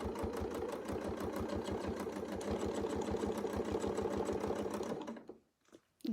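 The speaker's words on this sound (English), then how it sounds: "and then we'll just sew it out" A sewing machine stitches circles on a quilt, running loud and close with a steady, rapid needle rhythm for about five seconds before stopping.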